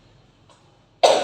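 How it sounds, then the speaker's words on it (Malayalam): A single sharp cough from a person who has fever and a cough, bursting out loudly near the end after near silence. "ഇടയ്ക്കിട്ട് ചുമയുണ്ടാവും കേട്ടോ"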